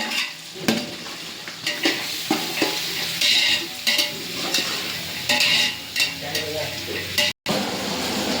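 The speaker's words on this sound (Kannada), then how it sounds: "ನೆಕ್ಸ್ಟು ಫುಲ್ಲು ಆಯಿಲಲ್ಲಿ ಫುಲ್ ಫ್ರೈ ಮಾಡಬೇಕು. ಚೆನ್ನಾಗಿ ಫ್ರೈ ಆಗಬೇಕು." Peanuts frying in a generous amount of oil in a pan, a steady crackling sizzle broken by repeated scraping stirs and light clinks of a utensil against metal.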